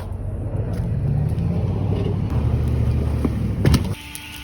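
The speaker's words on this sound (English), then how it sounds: "With a little muscle in my father-in-law's truck, we eventually got it out of the ground." A pickup truck engine strains and revs while pulling a tree stump out of the ground in a yard, a steady loud rumble with a few knocks and a sharp clunk before it drops to a lower idle.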